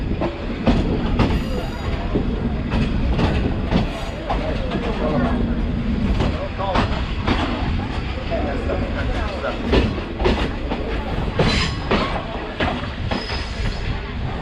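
A circular train around Yangon, Myanmar rolls toward the main station, a loud continuous rumble of the carriage with rhythmic clacking of wheels on rail joints and occasional squeals, heard from inside.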